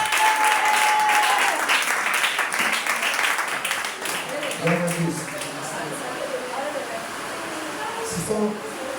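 A church congregation applauds in praise of the Lord, with dense clapping loud at first and gradually thinning, and a voice speaking over the tail end.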